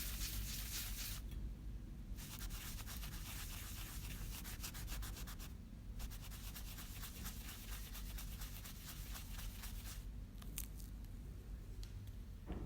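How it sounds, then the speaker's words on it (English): A cotton swab dampened with alcohol rubs thermal grease off a laptop heatsink, a close, soft continuous scratchy scrubbing broken by a few short pauses, faint and steady. "clean all thermal grease off of the heatsink"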